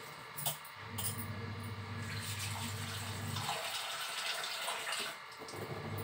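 Water poured into a pot of ground urad dal in a home kitchen; a steady, moderately close stream of running water that shifts in tone partway through, with a few faint clinks.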